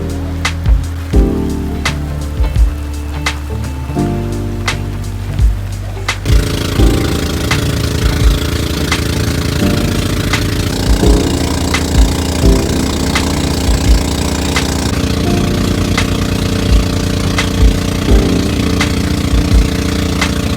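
A small outboard-type boat engine runs steadily and loud near a Camiguin Island shore while passengers wait to board, its rhythmic thrum continuous with occasional knocks and clatter, no talk.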